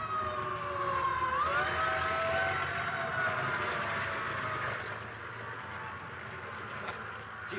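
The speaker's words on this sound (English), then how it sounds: "Hey, fire engine!" A wailing fire engine siren rises and falls, loud and close at first, then fading slightly as it continues over traffic rumble.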